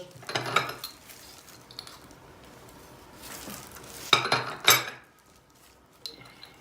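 A spoon scrapes and clinks against a dish while chicken liver salad is mixed with chili flakes, black pepper and salt, coming in several short bursts of metallic clatter separated by quiet pauses.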